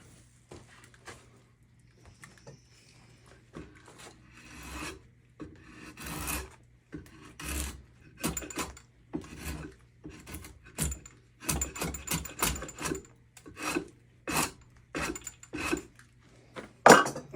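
A draw knife shaves a scrap piece of wood clamped in place, giving repeated rasping strokes of irregular rhythm at close range, growing louder toward the end, with a low steady hum underneath.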